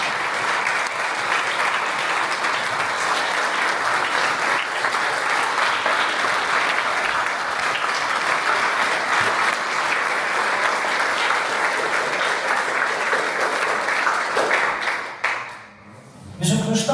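Applause from a film festival audience, loud sustained clapping that fills the hall for about fifteen seconds before dropping off abruptly near the end.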